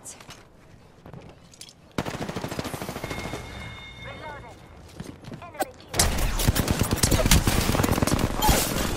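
Gunfire in the shooter game Apex Legends: scattered shots at first, then bursts of rapid automatic fire that grow louder and denser toward the end, with game sounds and voices mixed in.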